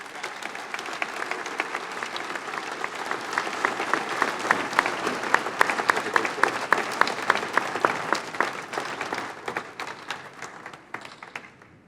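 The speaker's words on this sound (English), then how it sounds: "Please give a round of applause to this crew." Banquet audience at an awards evening claps for a FedEx aircraft crew, a sustained round of applause that builds to a loud, dense peak and then tapers off.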